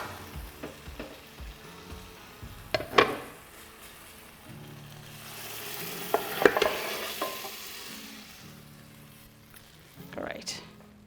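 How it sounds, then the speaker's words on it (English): Lamb shank mixture with tomato scraped and stirred out of a hot pan into a slow cooker, with scattered clinks, scrapes and faint sizzling under intermittent talk. "we're going to transfer that now into the slow cooker"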